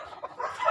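A rooster gives a short, close crow that is cut off after a fraction of a second.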